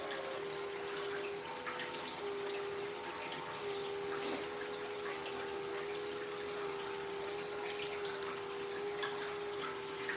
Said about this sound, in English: It needs to kick on and we'll get some more water flowing.